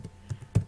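A few quick key presses on a computer keyboard, three soft, close taps within under a second, the last one firmest, with no talk.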